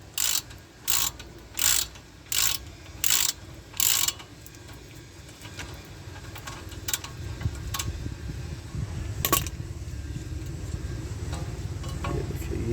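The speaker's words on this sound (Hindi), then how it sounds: "यहाँ पे 14 mm का बोल्ट रहता है जॉइंट पे, तो ये हम लोग ओपन कर लेंगे।" Ratchet wrench loosening a 14 mm bolt on a car front suspension joint: a series of six crisp evenly spaced ratcheting bursts, then softer scattered clicks and mechanical handling over a low background rumble.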